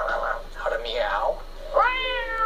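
A pet bird mimics a cat's meow, giving several drawn-out, rising and falling meow calls close up, with a clearer final meow near the end.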